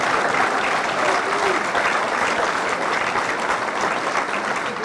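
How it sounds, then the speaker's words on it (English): Steady, full applause from an audience at a high school ribbon cutting ceremony, continuous and even in loudness throughout with no talking over it. "A big round of applause."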